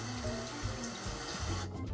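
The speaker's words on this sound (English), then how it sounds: "let's water the razor" Tap water runs steadily from a faucet to wet a safety razor before a first shave, a continuous close splashing hiss that thins out near the end.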